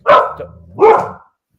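Two loud, close barks from dogs at home greeting someone arriving, each bark sharp and full-bodied, a short pause between them, with no talking.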